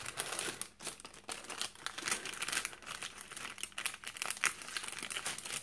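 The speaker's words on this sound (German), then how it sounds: "Oh, jetzt ist die Tüte kaputt gegangen." A torn plastic bag is handled close up during card crafting, giving dense, continuous crinkling and rustling with sharp crackles scattered throughout and no talking over it.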